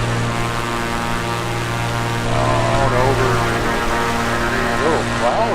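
A Beechcraft Baron twin-engine propeller plane cruises at full power, its steady droning hum with strong tonal harmonics filling the cabin, as someone talks over the engine noise.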